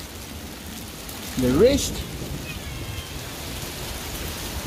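Rain falls steadily outdoors as a broadband hiss throughout, with a brief louder burst of speech partway through.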